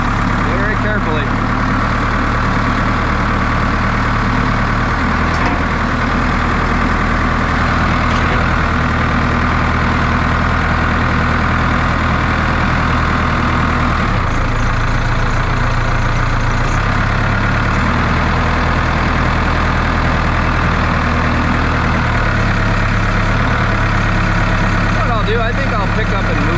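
A telehandler's diesel engine runs steadily while it moves yellow cedar sawlogs, a loud, constant low rumble throughout with small shifts in pitch as the machine works.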